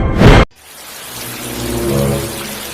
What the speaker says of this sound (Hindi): आज बाहर बहुत तेज बारिश हो रही है।